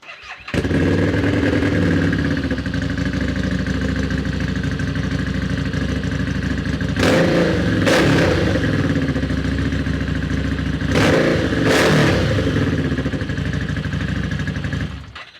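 A 2018 superbike with a custom exhaust idles with a deep, throaty exhaust rumble, then is revved hard twice in sharp bursts before settling back to a loud idle.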